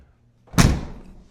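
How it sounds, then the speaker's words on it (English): The heavy door of a 2007 Mercedes G55 AMG slams shut with one solid, deep thud. It is close and loud, and a short ringing decay follows after a quiet lead-in. "It's so satisfying to close the doors."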